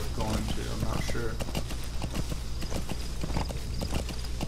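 Horse hooves clip-clop steadily at close range in Metal Gear Solid V: The Phantom Pain, a brisk rhythmic trotting over constant game background noise, with a brief whinny.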